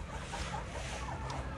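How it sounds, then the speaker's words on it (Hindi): A weak, slightly unwell hen clucking softly in a cold-weather poultry shed, a few short low clucks close by, quiet and without talk. "ये हमारी एक मुर्गी है ज़रा ढीली मठी हुई है"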